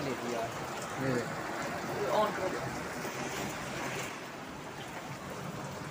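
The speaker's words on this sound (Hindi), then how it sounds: "अभी भी बारिश जो होती है ना उसी तरह हो रही है" Heavy rain falls steadily on a rooftop, a continuous hiss with a faint trickle of water running beneath, steady throughout.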